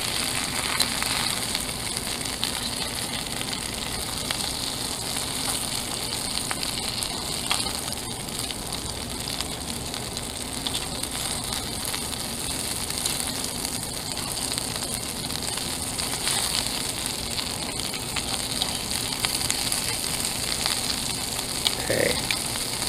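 Chicken cutlet fingers frying in olive oil with garlic in a pan in an RV kitchen, a steady dense crackling sizzle that continues evenly and close throughout, with occasional small pops.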